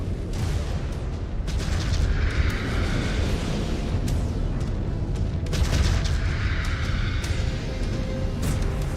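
Incoming missiles explode in MechWarrior 5: Clans amid constant heavy battle rumble, with clusters of sharp blasts at several points and a steady roar of mech combat underneath.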